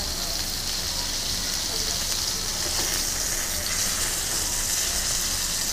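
A fish fillet fries in a hot pan, giving a continuous loud sizzle and crackle that holds steady throughout without breaks.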